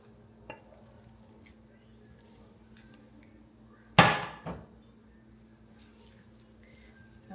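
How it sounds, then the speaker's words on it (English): Spinach dip scooped from a bowl into a pan gives a quiet, mostly still kitchen scene, then a sudden wet plop and short scrape midway, with a second softer squish just after. "now we are transferring the spinach dip in the pan"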